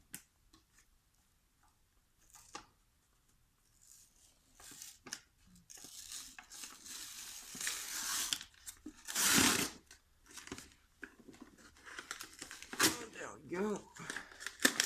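Unwrapping a Monroe LA7-200 machine from its packaging: irregular crinkling and tearing bursts of wrap and plastic, growing busier and louder partway through, close by with brief pauses between handling noises.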